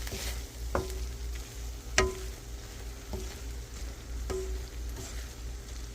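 Sardines and alugbati greens sautéing in a covered pan, a steady close sizzle with a few soft clinks of a utensil against the pan.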